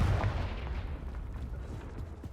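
In Hogwarts Legacy, a fire blast spell erupts with a deep, booming burst, then a rumbling crackle lingers for about two seconds with no voices.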